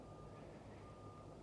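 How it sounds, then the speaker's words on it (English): Reversing beeps from construction vehicles at a mountain worksite, a steady high electronic tone heard faintly through a low rumble of distant machinery and wind. "And it would be very silent if not for the beeps from the construction."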